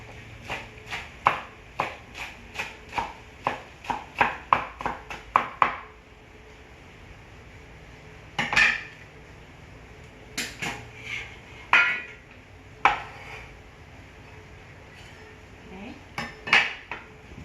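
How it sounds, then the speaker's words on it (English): A knife chops green onion on a cutting board in a quick run of sharp, regular taps, then a few slower, spaced knocks after a pause, close and clear with no talking. "we need onion, green onion. So just cut it into small."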